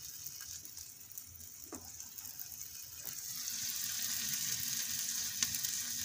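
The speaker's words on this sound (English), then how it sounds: "You hear that thing frying, man?" Steady sizzling of a prison breakfast sandwich frying in a pan, a constant bright hiss that swells slightly louder partway through, with a couple of faint clicks.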